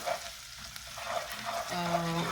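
Garlic and ginger sautéing in oil in a pan, a soft steady sizzle heard up close at low volume, with a faint tonal hum toward the end and no voices.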